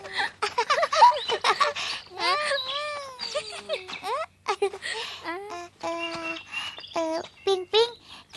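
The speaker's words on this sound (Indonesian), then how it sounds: "Ping Ping, kita banyak mendengar suara burung." Lively birdsong with rapid chirps, trills and whistled notes, bird after bird in quick succession, clear and close with brief gaps between phrases.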